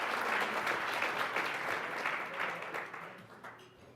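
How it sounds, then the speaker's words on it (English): Audience at the SuperNova Awards gives a finalist a dense round of applause, steady and close, gradually fading toward the end. "Oh, give him a bigger round of applause than that."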